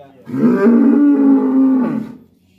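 A single long, loud cow moo lasting nearly two seconds, deep and steady, heard up close inside a cattle pen with no talking.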